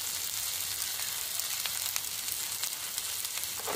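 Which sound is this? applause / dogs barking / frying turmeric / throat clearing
frying turmeric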